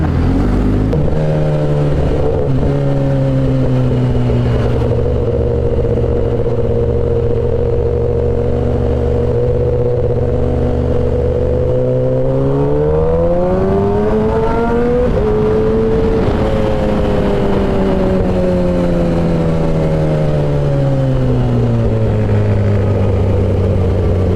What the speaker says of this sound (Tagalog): It's traffic everywhere.